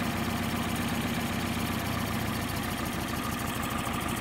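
A Porsche 356 engine with Solex 40P11 carburetors idles during a tune-up, a steady low, throbbing rumble with an even pulsing rhythm, close and continuous, with no talking.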